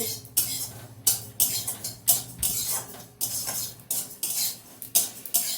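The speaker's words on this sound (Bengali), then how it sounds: "শুকনো খোলা মানে একদম শুকনোতেই নেড়ে ভালো করে একটু ভেজে নেবো।" Fennel and radhuni spices are dry-roasted in an empty pan, stirred with a metal spoon that scrapes and clinks against the pan in repeated rhythmic strokes, close and fairly loud.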